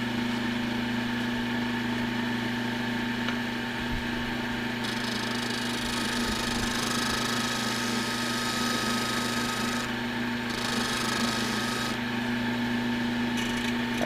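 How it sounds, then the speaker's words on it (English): A large scraper smooths a segmented walnut and ash vase turning on a wood lathe, giving a steady close hum and rubbing drone that runs without a break and has no talk. "going to use my big scraper here to do the final"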